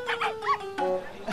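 A person imitates a dog, giving a few quick, voiced yipping barks in close succession at an outdoor variety-show high-diving stunt. The calls are near and clear, with short pauses between them.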